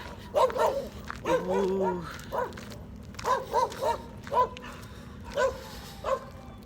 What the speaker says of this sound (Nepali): कुकुर भुक्दैछ यार।